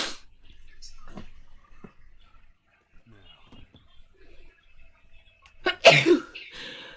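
A single sharp, loud sneeze bursts out near the end, followed by a brief trailing sound, after a stretch of quiet with faint scattered noises and soft talk.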